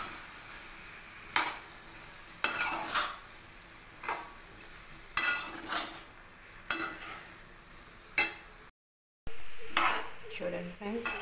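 Cauliflower being stirred into masala in a pan, heard as a run of sharp, spaced metallic scrapes and clicks of a spoon against the pan over a soft sizzle, close up, with one brief dropout.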